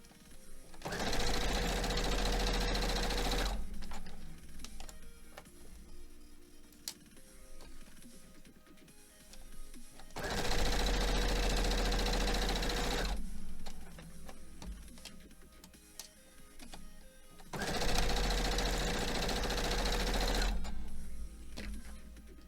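A sewing machine stitches rows of a quilt block, three steady whirring bursts of several seconds each, separated by quiet pauses, close and clear with no talking.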